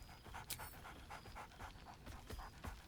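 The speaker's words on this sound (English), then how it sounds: "Scratch barks merrily in something like agreement." Dog panting with short whines in the Baldur's Gate 3 video game, a steady rhythm of quick breaths close by, with occasional brief louder yelps over a low game background.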